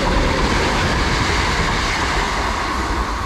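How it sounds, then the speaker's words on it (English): A train passes through a station on Merseyside, a loud, steady, broadband rumble with a faint rail clatter, filling the whole moment without speech. "We've got a train passing"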